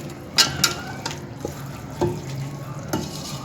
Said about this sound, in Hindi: इसको मिक्स कर देंगे और दाल का चूल्हा बंद कर देंगे